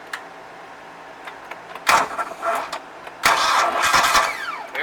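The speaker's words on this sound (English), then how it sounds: "We got a rotation out of the engine." A 2000 Bayliner boat engine cranks over twice on a 1,000 cold-cranking-amp battery, with a short starter whir followed by a longer, louder grinding crank, close and with no talking.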